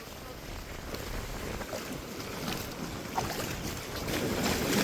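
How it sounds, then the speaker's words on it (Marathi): Sea waves wash in over a rocky shore along the Konkan coast, a continuous close, loud rush of water and wind noise that builds slightly toward the end, with no speech. "लाटा आहेत ना पाणी अगदी इथपर्यंत येते."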